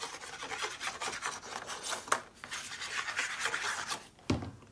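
Tape peeled away and glue laid down on paper for a scrapbook page, heard up close as a continuous dry rasping and rubbing, ending with a sharp crackling tear, with no talking.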